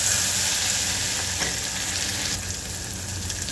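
Ground spice paste with garlic frying in hot oil for udad ghuta, a dense, steady close sizzle with faint stirring scrapes and no voices.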